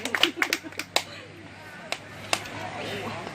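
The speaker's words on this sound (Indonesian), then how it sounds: "Tepuk tangan dong." Audience clapping at an anniversary gathering of an organization: a few sharp, scattered claps in quick succession at the start, then sparse isolated claps amid murmuring room noise.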